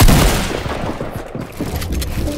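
A burst of assault rifle fire in a shooter video game, loud and close at the start and then tailing off into scattered, quieter shots with no talking.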